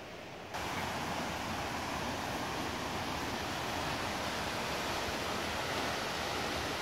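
A waterfall in the Mixteca region of Oaxaca roars as a steady, dense rush of falling water that swells in after a short quiet moment and holds loud and unbroken, with no voices.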